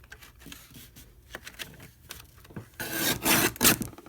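A blade trims the edge of a budget journal cover, giving a few soft rasping strokes that build into louder, steady scraping cuts near the end, close and alone with no talking.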